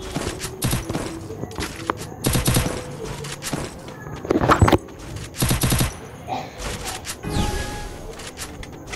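Rapid bursts of automatic gunfire from a video game crackle loudly in several separate volleys, with short gaps and thuds between them.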